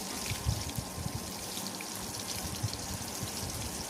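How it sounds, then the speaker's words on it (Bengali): Rohu fish pieces frying in hot oil, a constant crackling sizzle with small popping bursts, steady and close, no voices. "আর মাছগুলোকে লাল লাল করে ভেজে নিচ্ছি।"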